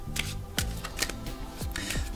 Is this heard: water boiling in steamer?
no